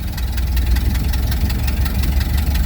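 A Ford Model A engine runs loud and close with a rough, rapid, low chugging rhythm, its throttle not returning to idle, and no voices over it.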